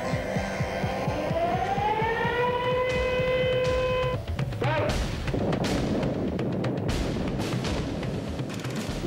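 A wailing launch-site siren rises in pitch and holds, then gives way to rumbling booms and thuds from a loud, distant blast.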